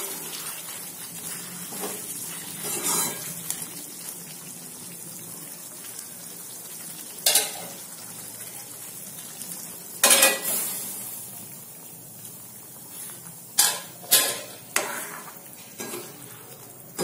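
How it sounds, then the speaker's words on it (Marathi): Stuffed brinjal masala is stirred in a pan, with a soft ongoing scrape and sizzle broken by several sharp clinks of a spoon against the metal. "आणि याला छान मिक्स करून घ्यायचं"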